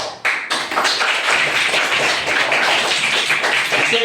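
A room of students applauds together, a steady dense patter of many hands clapping at close range with no talk over it.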